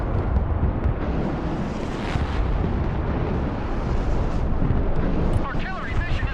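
Artillery strike explosions in the video game Broken Arrow rumble loudly and continuously for several seconds, a dense barrage of booms with no clear gaps and faint radio-style voice chatter mixed in.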